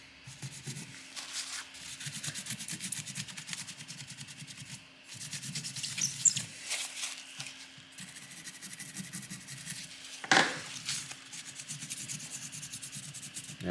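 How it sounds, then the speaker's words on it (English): Soft rubbing strokes of excess thermal paste being wiped off a Gigabyte 660 Ti graphics card board, coming in short repeated bursts with brief pauses and one sharper scrape, quiet and close. "Try to clear up any excess thermal paste going on the board."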